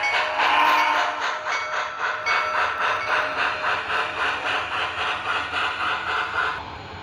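An MTH model DMIR Yellowstone steam locomotive runs steadily nearby, its rhythmic chuffing and mechanical clatter continuous throughout, loud and without talk.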